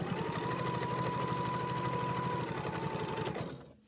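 A sewing machine runs steadily, stitching green fabric onto purple for a packing cube mock-up, a continuous close mechanical whir with a rapid needle rhythm that stops abruptly near the end.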